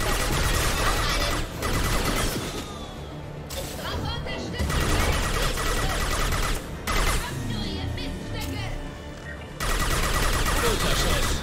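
Rapid bursts of gunfire and impacts in the video game Mass Effect Legendary Edition, loud volleys broken by short pauses, with a voice talking over the combat.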